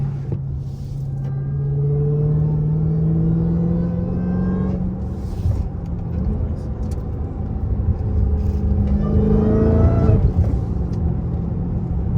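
A tuned Dodge Hellcat engine rumbles deeply and steadily, rising in pitch as it revs up twice, heard close from inside the moving car at night.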